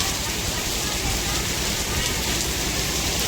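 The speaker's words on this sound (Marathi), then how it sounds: "खूप छान असा पाऊस चालू आहे" Dense, steady hiss of heavy monsoon rain pouring down nearby in Ardhapur, Nanded, loud and unbroken throughout.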